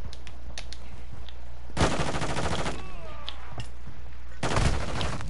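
Rapid automatic gunfire rattles out in two loud bursts during a video game team deathmatch, with quieter scattered shots and game ambience between them.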